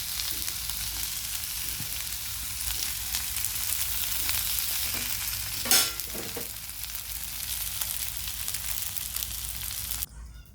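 Uttapam sizzling steadily in a hot pan right after being flipped, a dense, loud frying hiss that carries on without a break, with a brief clatter near the middle and a sudden drop just before the end.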